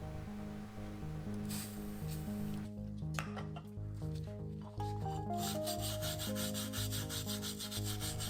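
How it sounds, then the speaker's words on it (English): Mesh sandpaper with WD-40 rubbing rust from the damaged blade of an old, worn knife, a steady rasping scrub that continues throughout, close and fairly loud, with music playing alongside. "Petra starts with removing the rust from the knife. She uses mesh sandpaper and WD-40."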